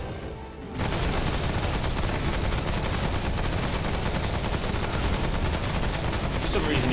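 Sustained gunfire and combat noise in the video game Remnant from the Ashes, a dense, loud barrage of shots that starts abruptly after a brief quiet moment and continues without pause.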